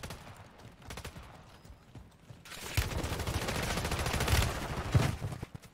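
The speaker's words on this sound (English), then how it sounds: "Oh, this is a shotgun." Gunfire in a ranked shooter video game, a quieter stretch of sporadic shots giving way to a loud, dense burst of rapid firing and booming impacts in the second half.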